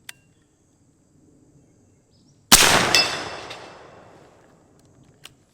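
A single loud, sharp report from an AirForce Texan .50 PCP airgun, followed by a ringing metallic clang off steel plates that fades over a couple of seconds. The setting is otherwise quiet, with faint insect chirps underneath.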